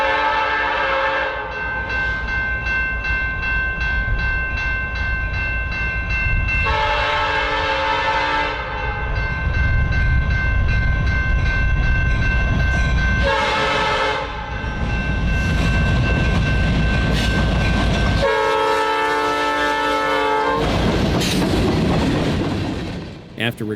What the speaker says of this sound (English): I filmed the train thundering across the Huron River Bridge.